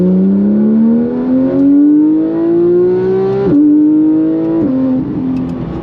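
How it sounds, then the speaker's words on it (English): Porsche GT3 engine accelerating hard, a loud, close high-pitched wail climbing steadily through the revs, with sharp shift breaks before it climbs again. No one speaks over it. "Thing sounds like a freaking F1 car."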